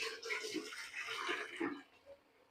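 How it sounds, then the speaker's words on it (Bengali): Water swishes and pours while a cooking pot is rinsed, a quiet splashing that fades toward the end. "আমি এখন এই হাঁড়ির পানি ধুয়ে দিয়ে দিই।"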